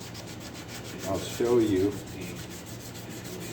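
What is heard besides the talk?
sanding a surface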